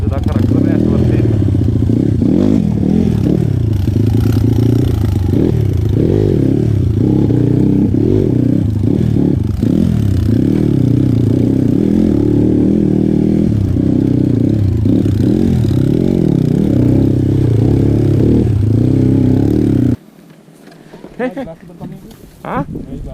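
A standard motorcycle rides a muddy, extreme off-road trail, its mid-pitched engine droning and revving continuously and loudly before cutting off near the end, with riders talking over it.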